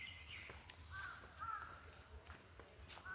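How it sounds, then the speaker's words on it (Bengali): Birds call faintly in the quiet Debagram forest, a few high chirps and a crow-like caw over soft ambience and footsteps. "নির্জন, কোনো আওয়াজ নেই, শুধু টুকটাক পাখির আওয়াজ আসছে।"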